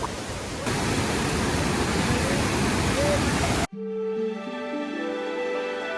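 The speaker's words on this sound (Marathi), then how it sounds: "बघू शकता हे पाणी, ते सगळं वसुंधरा फॉलचंच पाणी आहे मित्रांनो" Water from Vasundhara Falls rushes and roars as a broad, steady hiss for most of the stretch, then cuts abruptly to a quieter passage with tonal sound and faint background.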